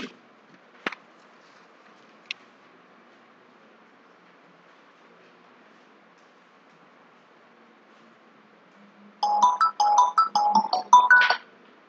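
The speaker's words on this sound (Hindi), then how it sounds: "एक वकील का फोन है" A telephone ringtone during a contract-law lecture: a burst of repeated electronic chirping tones arrives near the end, fairly close and clear, after a long stretch of near silence with a couple of faint clicks.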